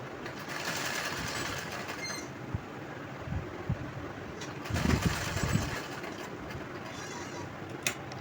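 Sewing machine stitching a blouse's lining cloth and main cloth together, a steady fast whirring run of stitches with brief pauses and soft handling clicks, fairly quiet and close.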